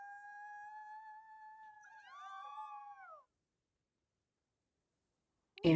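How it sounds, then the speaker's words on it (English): Wolves howl together in WolfQuest: a few long, steady overlapping cries that then bend and slide downward as the voices break off. A short silence follows, ending in a sudden loud noise. "we'll do a little howl"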